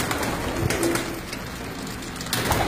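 Pigeons coo in a breeding loft, with soft throaty calls repeating over a dense, continuous bed of nearby bird noise.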